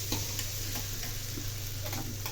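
Bitter gourd (boda kakarakaya) curry being stirred in a pan, a steady soft sizzle with a few scraping spoon strokes, close and moderately loud, no talking.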